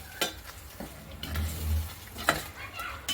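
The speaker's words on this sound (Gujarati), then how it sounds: "હવે તેને આપણે મિક્સ કરી લઈશું." Fried okra being stirred into sizzling masala gravy in a pan: a soft steady sizzle with a few spoon scrapes and clinks against the pan.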